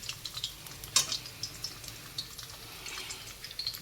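Sweet potato fingers frying in oil, a soft continuous sizzle with faint crackles and a few small pops spread evenly, fairly quiet and close, with no talking.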